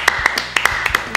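A small scattering of hand claps, sharp and close, arriving at an irregular rhythm with only a handful of hits and no voices.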